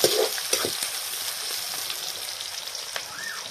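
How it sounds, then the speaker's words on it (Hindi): Broiler chicken pieces frying in hot oil while being cooked for a home recipe, a steady dense sizzle and crackle with a brief stir or scrape near the start, close and continuous, no talking. "इसको तेल में भूजेंगे अभी थोड़ी देर में"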